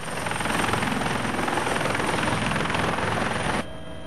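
Loud, steady rotor thrum and engine roar of a Hokkaido Police aviation unit rescue helicopter close by, cutting off abruptly near the end.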